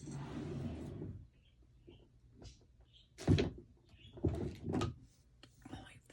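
A household drawer slides open with a soft scrape and knock during a stamping craft session, followed by a few quiet rummaging clunks and rustles in a calm room.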